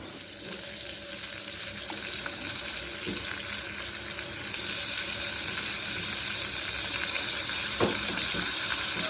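Meat frying in a spice paste in a pan, a steady close sizzle and hiss with occasional faint stirring clicks, no voices.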